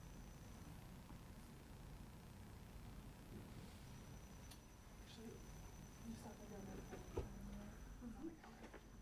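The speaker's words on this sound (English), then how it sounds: "there is a cricket" A cricket trills faintly and continuously in a borough meeting room, its thin high tone running under low room noise, soft shuffling and scattered small knocks.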